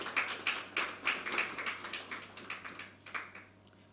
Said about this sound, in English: So again, round of applause for Mr.